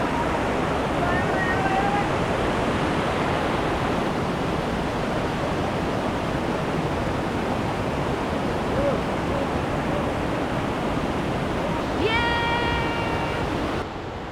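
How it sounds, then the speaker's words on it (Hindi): A mountain stream on the trek to Shrikhand Mahadev flows with a loud, constant broadband rush that fills the whole stretch, with a few faint chirps riding above it. "इसमें पानी इतना ज़्यादा नहीं है तो उसको इजी पीजी आराम से क्रॉस कर सकते हैं।"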